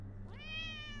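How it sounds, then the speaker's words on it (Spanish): A single drawn-out cat meow, clear and close, rises over a steady low hum in a fantasy video game world. "Qué te parece Michoki? Michoki el gato"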